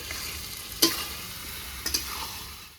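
Meat for kosha mangsho sautés in a pan with a continuous low sizzle, punctuated by a few distinct scraping clinks of a spatula stirring, one near the start and a pair later.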